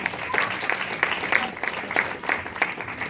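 A small audience applauds Danky at a talk on positive parenting; a steady patter of hand claps with sharper individual claps coming through, fairly close and moderately loud.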